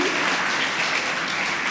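Sustained audience applause at a memorial lecture celebration, a dense, steady wash of clapping from a large crowd filling the whole moment at even loudness.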